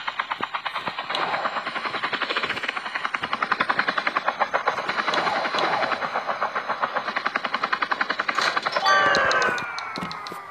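A video game helicopter coming in to land at a heliport, its rotor beating in a fast steady chop with engine whine, loud and close throughout, rising in pitch near the end.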